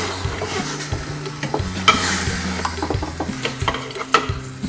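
Oxtail and garlic are stirred and sautéed in a pan, with a steady sizzle under repeated scraping, clinking stirs and utensil knocks up close.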